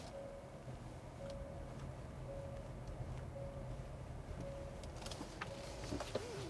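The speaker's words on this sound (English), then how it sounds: "Okay, now let's go out and drive this Kia Niro" A Kia Niro Plus electric car on the move, a quiet steady road and cabin hum with a faint repeating electric whine and a few light clicks toward the end, no talking.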